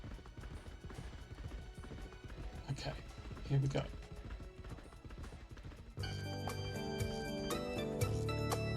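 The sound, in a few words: horse hooves clip-clopping in a horse video game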